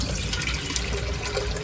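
Water runs steadily from a tap for watering plants, a continuous close hiss and splash that stays at the same level throughout.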